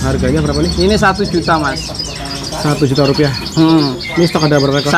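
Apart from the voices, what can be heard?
caged songbirds chirping at a bird shop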